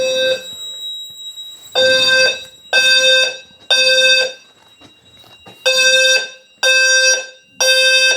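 A building fire alarm tested during a routine system check blares in loud, harsh electronic bursts of about a second each, repeating in a regular on-off pattern with short quiet gaps, no talking.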